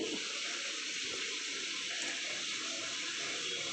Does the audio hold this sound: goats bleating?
no